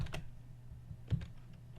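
A few sparse keystrokes on a computer keyboard, quiet and close, with a pair of louder taps near the start and again past the middle over low hum.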